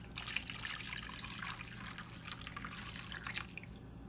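Liquid mixture poured into a dish for an oven-baked pantry meal, a soft, close trickling and dripping that runs steadily for several seconds.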